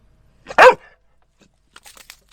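A dog gives one sharp, loud bark nearby in a quiet desert setting, followed by faint small rustles and clicks.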